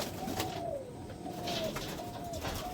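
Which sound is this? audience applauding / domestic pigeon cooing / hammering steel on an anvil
domestic pigeon cooing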